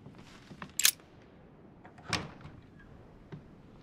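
A door to a private room in The Council video game swings open with a short clack and a soft creak, followed by a second muted thud, heard close in a quiet interior.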